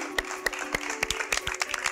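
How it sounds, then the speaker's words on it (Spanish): A handful of people clap in a TV cooking competition studio as the chefs are applauded, sparse distinct claps roughly every quarter second over a low steady hum. "Un aplauso para los chefs."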